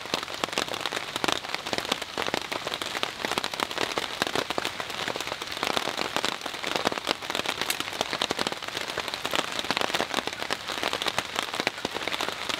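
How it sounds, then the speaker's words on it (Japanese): Rain falls on a bushcraft camp in a dense, steady patter of drops striking nearby surfaces, with sharp crackling ticks throughout, continuous and fairly loud with no talking. "雨キャンプですが、"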